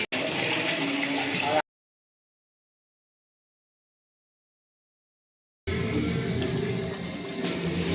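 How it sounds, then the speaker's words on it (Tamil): Water poured from a can into a large cooking pot for Dindigul mutton biryani, a loud rushing splash for a second and a half, silence, then another sustained pour. "இப்போ வந்து நம்ம உலைக்கு தண்ணி ஊற்றிக்குவோம்."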